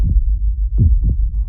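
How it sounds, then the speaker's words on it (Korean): Heartbeat opening Pink Floyd's The Dark Side of the Moon: loud, deep, close thumps in a slow lub-dub rhythm, three beats heard alone with no voices. "심장박동은 우리가 세상에서 처음으로 듣는 소리입니다."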